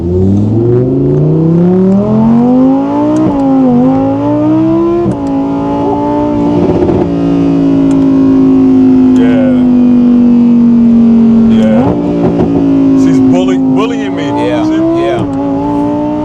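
An Audi R8 GT engine hums and revs on light throttle, a smooth, loud tone that climbs and dips steadily from inside the cabin, with people talking over it.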